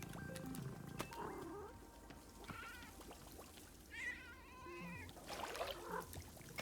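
A cat meows several times in the Zenith video game, with repeated short wavering cries spaced across the moment over quiet background game ambience.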